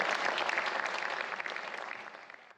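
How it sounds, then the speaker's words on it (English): An audience claps at a glassblowing demonstration in a museum hot shop, a moderate, fairly distant round of applause that swells then gradually fades. "Let's give these two a big round of applause for a smooth, successful transfer"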